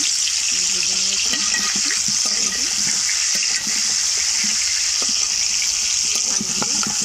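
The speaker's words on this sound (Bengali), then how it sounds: "আমি আলুগুলোকে লালি লালি করে ভাজবো।" Potatoes fry in oil with a loud, steady sizzle, broken by occasional clatter and stirring knocks, with faint background sounds mixed in.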